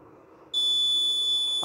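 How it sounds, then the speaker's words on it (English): A sharp, high-pitched electronic alarm buzzer on an Arduino QR code door lock switches on abruptly and holds steady and loud over a quiet background hum. "Alarm on."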